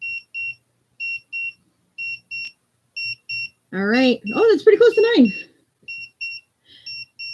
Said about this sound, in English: All right, so that timer goes off.